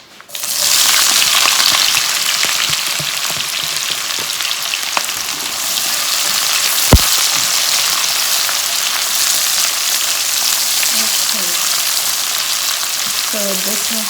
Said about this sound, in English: So this is 2 onions which I have cut and fried.